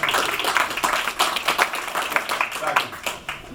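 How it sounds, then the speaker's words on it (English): Applause at a neighborhood association meeting, a steady patter of hand claps from a room of people with voices mixed in throughout. "Give her a round of applause"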